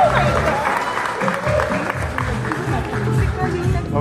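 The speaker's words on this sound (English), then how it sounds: "A round of applause, please" Steady applause from an audience at a product event, a continuous wash of clapping with crowd murmur mixed in, holding at an even level throughout.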